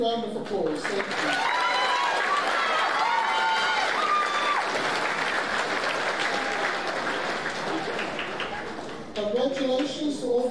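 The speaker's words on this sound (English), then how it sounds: "And a huge round of applause." A school senior prizegiving audience claps loudly and steadily for about nine seconds, a dense crowd applause that tapers off near the end as a voice resumes.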